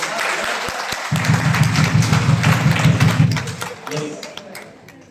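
An audience in a class session claps for a teacher, a steady wash of hand claps with a voice talking over it, the clapping fading toward the end.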